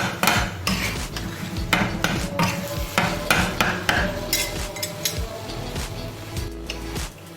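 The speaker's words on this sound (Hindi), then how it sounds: "और हम एक बार फिर इसको अच्छे से मिक्स करेंगे।" Kata kat being mixed with crushed cumin and kasuri methi, loud rapid clanking and scraping of a metal spatula on a hot griddle with busy irregular rhythm, close and continuous.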